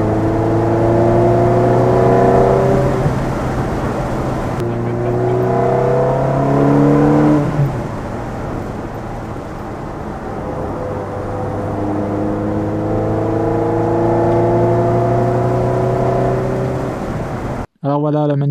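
A Ferrari 360 Spider with a reprogrammed F1 gearbox drives along a road, its engine rising and falling in pitch through steady, loud acceleration runs, with a brief cut at the very end.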